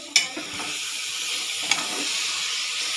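Biryani rice sizzles steadily in a pot over a low flame, with a couple of sharp clinks from stirring against the pot.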